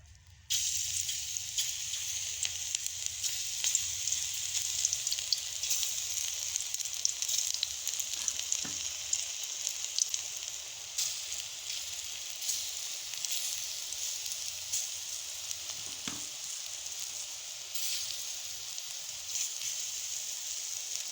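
Hincha greens pakoras fry in hot oil, a steady crackling sizzle that holds close and even throughout, with faint occasional clinks and no voices.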